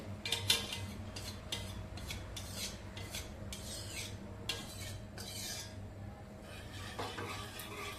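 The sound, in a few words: stirring milk in a pan with a spoon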